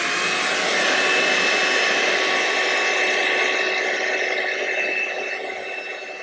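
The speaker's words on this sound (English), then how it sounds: "I'm gonna take my blow dryer on a cool setting." A handheld blow dryer on its cool setting runs during a wig install, giving a loud, steady whirring rush with a high whine that eases slightly near the end.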